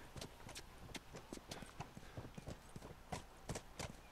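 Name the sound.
horse hooves in the video game The Last of Us Remastered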